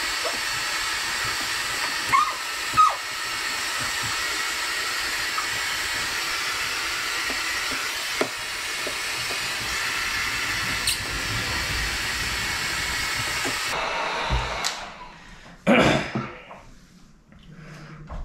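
Steady hissing rush of blown air under ceramic window tint film on the back window of a Dodge Charger, continuous and close for most of the stretch before cutting off near the end, with a few faint knocks.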